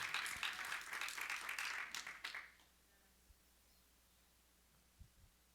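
A church congregation claps for a couple of seconds during a sermon, a close, bright burst of many hands. It cuts off abruptly, leaving a low hum with a few faint knocks.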